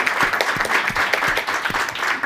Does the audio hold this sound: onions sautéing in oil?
no